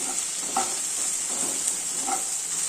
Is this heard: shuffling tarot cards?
no